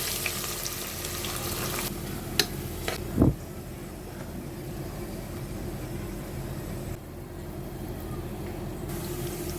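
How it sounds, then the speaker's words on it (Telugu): Cashews and onions fry in ghee and oil in a pan while chicken haleem is being made, giving a steady, close sizzle throughout, broken by a few brief utensil clinks and a sharper clatter partway through. "జీడిపప్పులు వేసానండి, ఫ్రై అవుతుంది. అలాగే ఆనియన్స్ కూడా ఫ్రై చేస్తానండి."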